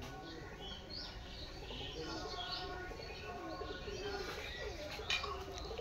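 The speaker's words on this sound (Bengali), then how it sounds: "পায়রা লড়াই করছে" Pigeons coo and squabble nearby in repeated soft, throaty calls with scattered chirps, over low background noise and faint distant voices.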